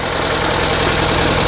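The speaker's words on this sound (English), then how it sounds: "Been sitting here running about 30 minutes. I've been revving the heck out of it. Adjusted the idle down a little bit." A VW Beetle engine idles steadily after being run and revved for a while with the idle adjusted down, a close, loud, even mechanical chug with no voices.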